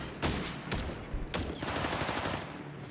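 Rifle and submachine-gun fire from M1 Garands and Thompsons crackles in a World War II battle in Company of Heroes 3, several sharp reports spaced apart and then a dense rattling fusillade, loud and near.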